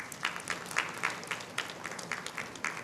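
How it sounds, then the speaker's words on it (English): Thin, scattered applause from an audience at an awards function after a speech, with separate hand claps rising and falling in loose rhythm at a modest distance for a few seconds. "This applause is not exhibiting our energy"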